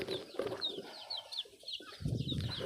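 Chickens and chicks in a coop: steady high peeping from chicks runs throughout, with soft clucking from the hens near the start and again at the end, close and fairly quiet.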